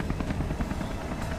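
A helicopter in Beyond: Two Souls roars close and loud, its rotor chopping in a rapid steady pulse throughout, with no talk over it.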